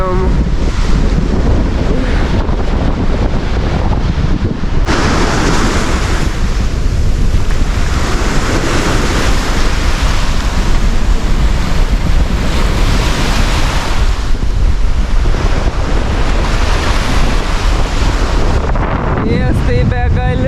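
Surf breaking on an Estonian Baltic beach in July, a steady broadband roar of waves with strong wind buffeting the microphone, loud and continuous throughout with no voices.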